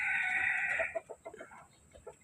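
A young seven-month-old Kelso rooster crows loudly up close, then breaks into a run of short clucks, with no talk.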